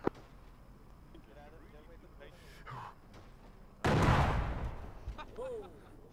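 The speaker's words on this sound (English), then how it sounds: "He's firing a rocket." A rocket fired in the military shooter Arma, a sudden loud blast and whoosh near the middle that fades away, with excited voices shouting before and after it.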